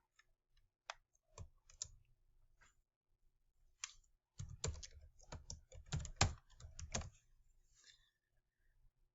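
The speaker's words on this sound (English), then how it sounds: "And we're going to type in our name." A name being typed on a computer keyboard, heard as scattered individual key clicks followed by a denser close-up burst of rapid typing, with no talking.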